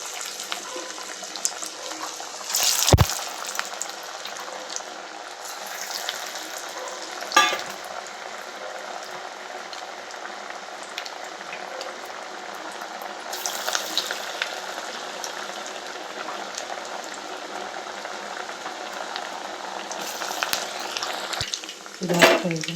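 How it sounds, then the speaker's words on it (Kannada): Sweet corn vadas deep-fry in hot oil, a steady soft sizzle and bubbling running throughout, broken by a few sharp clatters, with occasional talk nearby. "ಎಣ್ಣೆ ಕಾಯ್ಲಿಕ್ಕೆ ಇವಾಗ ವಡೆ ಹಾಕ್ತೀನಿ"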